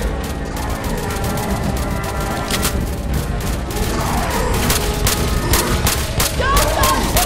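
Gunfire in Left 4 Dead 2: dense, loud bursts of automatic and rapid shots that keep going with barely a break, close up, with some shouting mixed in underneath.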